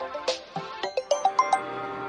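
A phone rings in a short sequence of bright, evenly spaced chiming tones, moderately close and heard alone without talk.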